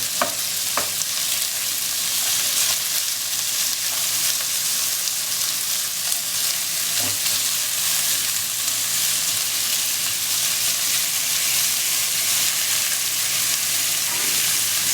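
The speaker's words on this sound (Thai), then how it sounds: "เวลาผัดไปเรื่อยน้ำมันก็จะออกอีกนะฮะผัดตัวหมูของเรา" Pork stir-frying in rendering oil in a pan, a continuous loud sizzle with occasional scraping stirs throughout, no talking.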